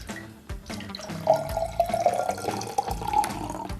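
Liquid, apparently water, is poured into a drink during a taste test, making a steady splashing trickle that is fairly close and runs for a few seconds with a rising gurgle and no talk over it.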